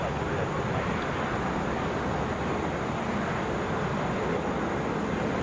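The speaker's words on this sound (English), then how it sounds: "This is Southwest Flight 724. Head to Dallas. Boeing 737 MAX 8." Southwest Boeing 737 MAX 8 airliner at Atlanta International Airport, a steady broadband jet engine roar heard from a distance, constant and unbroken throughout.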